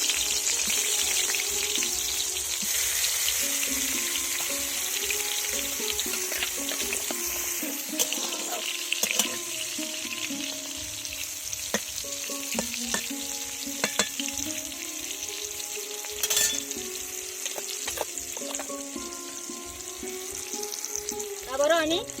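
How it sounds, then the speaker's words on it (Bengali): Vegetables frying in oil in a pan make a continuous, fairly loud sizzle with intermittent spatter and scraping stir clicks throughout, alongside a faint tonal hum in the background. "একইভাবে এগুলো আমি ভেজে নেব।"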